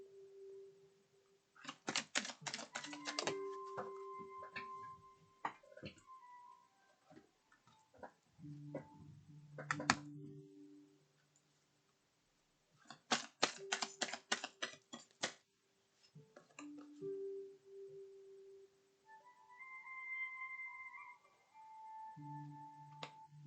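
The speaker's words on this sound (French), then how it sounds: "je vais mélanger les cartes" Oracle cards being shuffled by hand in irregular bursts of crisp clicking and riffling taps, close and fairly quiet, with pauses between rounds and a few faint tonal sounds in the background.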